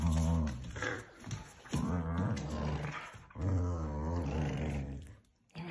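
A dog growls in repeated rough, throaty bursts while tugging on a toy, loud and close, with short pauses between growls.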